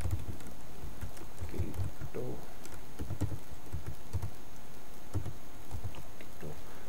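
Keys clatter in an uneven run of taps on a computer keyboard while a Telegram ID and Twitter username are entered, fairly close and continuous with no talk over it.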